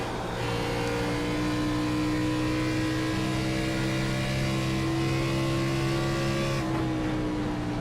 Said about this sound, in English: let's go ahead and ride on board with our race leader, Alex Harris.